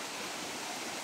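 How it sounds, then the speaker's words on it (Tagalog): Flowing stream water rushes past rocks in a steady, even hiss for about a second, close and constant with no voices. "Humina ang tubig."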